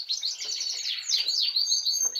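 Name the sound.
pet birds chirping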